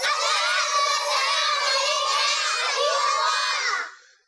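A room full of children shouts and chants together at a religious Eid gathering, a dense, loud, continuous wall of young voices that cuts off abruptly at the end.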